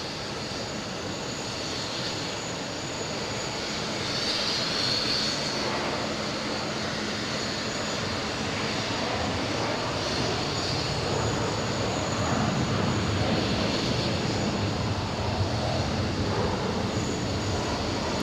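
JetBlue airliner bound for Cartagena at JFK airport, a steady, moderately distant jet engine rumble that swells slightly midway and holds with no voices.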